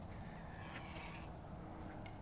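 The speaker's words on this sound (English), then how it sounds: "Oh, and we got some of those white ducks coming up." White ducks and mallards at a lake in a park give a few faint, scattered quacks over steady outdoor wind and ambient noise.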